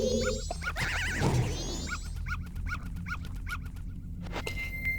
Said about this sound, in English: The dog attacks the Deku form, but will not attack me in regular Hylian form.